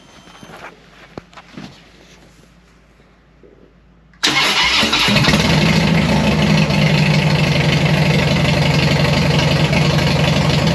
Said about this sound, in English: so I'll go ahead and start the bike up